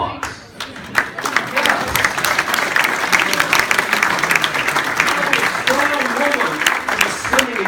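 A keynote audience in Australia claps for the women in the room, who stand: lively, dense applause filling the hall, with excited voices and some cheering mixed in throughout.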